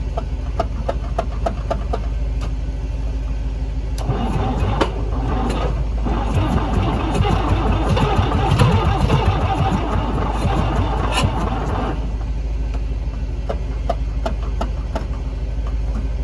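An International B414 tractor engine with a locked-up history cranks on a weak starter, a steady loud churning that surges into heavier, rougher running through the middle stretch before easing back to cranking.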